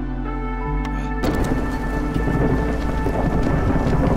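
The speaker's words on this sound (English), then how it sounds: "the storm is coming" A thunderstorm in the city-building game Against the Storm, a sudden loud thunder crack followed by heavy, steady rain pouring across the surface, close and dense.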